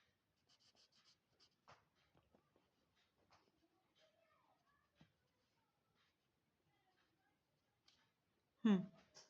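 A pen scratching and tapping on a card as it is coloured in, in short faint bursts separated by quiet pauses, ending in a louder brief knock.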